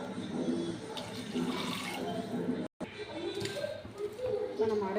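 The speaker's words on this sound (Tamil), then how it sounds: "இப்போ நம்ம தண்ணி ஊற்ற போகிறோம்." Water pours steadily into a cooking pot for chicken biryani, a continuous splashing gush that runs throughout with someone talking over it.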